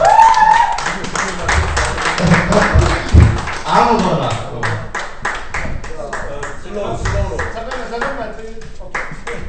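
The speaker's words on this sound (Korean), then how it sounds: "자 그냥 박수 한번 부탁드립니다." A crowd at a 2013 New York gathering of Korean riders breaks into scattered clapping, the sharp hand claps mixed in with steady talking voices throughout.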